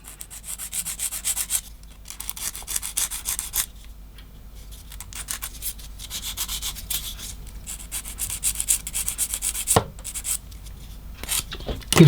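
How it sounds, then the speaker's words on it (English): Sanding stick rubbed against a plastic part of a Trumpeter HMS Nelson 1/200 model ship kit, a close, steady scratchy rasp in repeated back-and-forth strokes with short pauses. "get my sanding stick"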